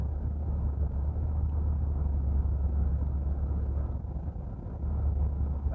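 Ford Flex rolling along on an empty gas tank, recorded from the cabin: a continuous low engine and road rumble, fairly loud and steady, dipping slightly once before resuming.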